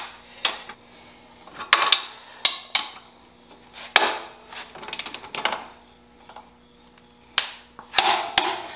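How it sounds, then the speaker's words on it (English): A torque wrench tightens the rear axle of a 2002 Honda Rebel 250 (CMX250C), giving a run of separate metallic clicks and clanks at irregular spacing, close by in a quiet shed with no talk. "And now we can tighten up the axle"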